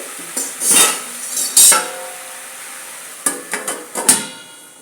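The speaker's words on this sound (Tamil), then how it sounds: "ஒரு தட்டை போட்டு மூடிட்டோம்" Metal and ceramic clatter in a kitchen as a plate is set over a simmering pan of brinjal and cowpea curry as a lid, with several sharp clinks and knocks in two clusters, close and fairly loud.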